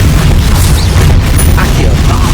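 An Incendio fire spell cast in Hogwarts Legacy bursts out as a loud, dense whoosh and rumbling boom, filling the whole moment with heavy low-end blast noise.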